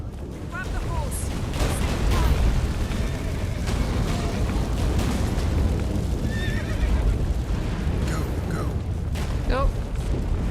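Horse in The Witcher 3: Wild Hunt whinnying several times over dense game ambience with rumbling booms and hoof clops, the neighs sharp and fairly close while someone talks briefly.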